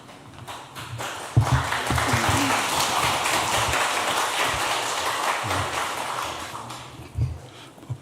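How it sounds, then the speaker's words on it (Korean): A church congregation applauds at an afternoon service, giving a dense, sustained round of clapping that swells after a few scattered claps, holds steady, then thins out. Light clatter shows near the end. "박수를 받아야 될 이유는 없는 것 같은데 쳐주셔서 감사합니다"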